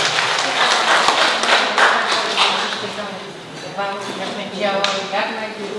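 Audience at a folk ensemble's tenth jubilee celebration applauds in a dense, continuous wash of clapping, with someone talking over it.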